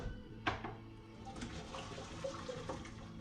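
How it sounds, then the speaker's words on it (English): Water from a pot of boiled potatoes pours out as they are strained in a kitchen, a steady close splashing and gurgling rush lasting a few seconds. "But you just want to strain them."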